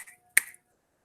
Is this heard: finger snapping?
yes